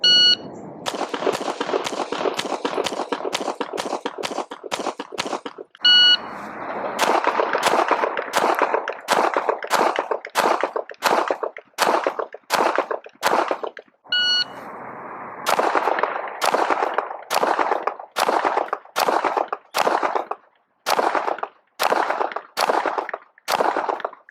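Pistol shots from Hellcat RDP and XD-M Elite handguns on a range, a long series of sharp, loud cracks in rapid strings with brief pauses between groups, and faint electronic beeps at a couple of points.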